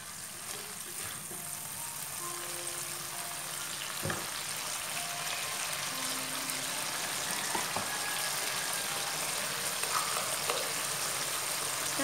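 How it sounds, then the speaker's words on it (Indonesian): Red spice paste sautés in hot oil for an anchovy and petai sambal, a steady close sizzle and crackle with occasional stirring scrapes, continuous throughout. "Kita tumis bumbunya hingga harum."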